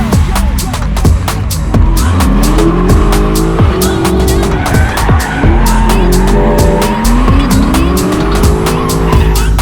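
A Lexus GS300 drifts around a track, its engine roaring loud and steady while the tires squeal and skid continuously in long, wavering screeches, close to the microphone throughout.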